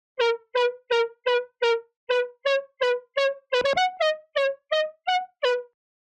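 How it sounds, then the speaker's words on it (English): Two layered detuned synth leads sounding together in a tropical house style, about fifteen short, evenly spaced, plucky staccato notes with a brief cluster midway, clear and alone. "Together they now sound like this"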